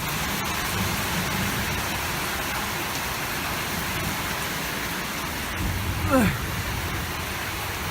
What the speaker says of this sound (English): it's been raining for quite a while now, probably 2 hours straight, and it's been raining hard